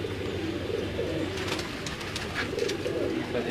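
Show pigeons kept by a fancier coo steadily and close by, overlapping throaty calls running throughout with light chirps and clatter above a constant low hum.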